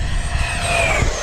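An FMS Avanti V3 RC jet makes a downwind pass on a windy day, its ducted-fan whine gliding steadily downward in pitch as it rushes by, fairly close and alone.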